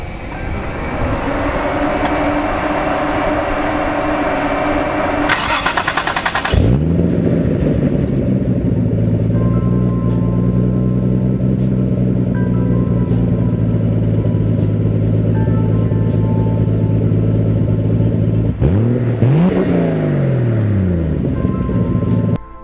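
A Toyota MK3 Supra with a 7MGTE engine making 515 rear-wheel horsepower revs steadily at close range, with harmonic tones rising and falling and a sharp gear-change drop near the start and again toward the end, no talk.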